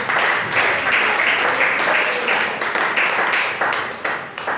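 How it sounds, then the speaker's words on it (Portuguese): Applause from a church congregation at an evening worship service, a steady wash of many hands clapping for several seconds, fairly loud and continuous with a few brief swells. "Dá uma salva de palmas para o Senhor nessa noite."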